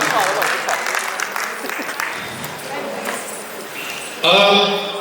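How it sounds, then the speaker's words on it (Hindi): A crowd at an awards show claps in a burst of applause mixed with voices and cheering, ending in a louder, sustained swell. "जोरदार तालियां"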